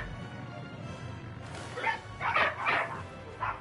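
Dogs at home give a few short barks and yips after a quiet start, fairly close and in quick succession.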